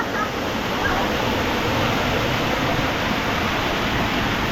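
Water crashing down from a filled tipping bucket at a resort pool, a loud, continuous roaring splash close by that holds steady throughout.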